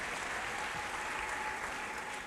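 Steady applause from a church congregation at a healing service, with ululation woven into the clapping, sustained and even throughout, with no break.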